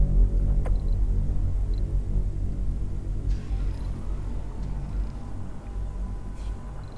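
Low, continuous rumble of an electrostatic dust storm in the Mars colony-building game Surviving Mars, a deep droning roar that holds steady throughout, with a few faint high clicks and tones flickering above it.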